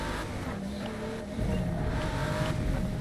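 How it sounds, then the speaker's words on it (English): A race car engine in the video game Forza Motorsport drones steadily at high revs, its tone shifting slightly as it pans across the stereo field, loud and continuous with no talking. "So you hear the engine panning."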